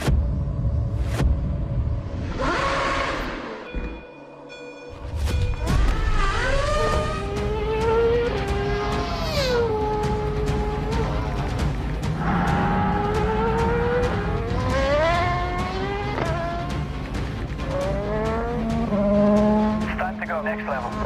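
A race car engine revs and surges at speed, its pitch climbing and falling through repeated gear changes, loud and continuous with voices underneath.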